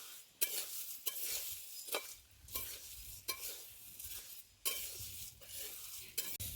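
Whole spices for Malvani masala are dry-roasted in a pan without oil, stirred in about six rhythmic scraping, rattling strokes with brief quieter gaps between them, fairly close and with no talking.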